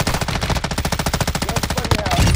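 Rapid automatic gunfire from the Call of Duty DMZ video game, a loud, unbroken burst of evenly spaced shots for over two seconds, close and dominant.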